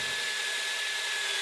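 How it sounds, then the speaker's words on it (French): A shelf bracket is screwed into a wall anchor with a power drill, giving a steady, continuous high-pitched whir that holds evenly at close range for the whole stretch, with no talk over it. "ensuite il suffit de visser pour expanser la cheville"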